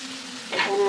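Ground spices such as turmeric and cumin frying in a pan make a brief, close sizzle that swells as it is stirred.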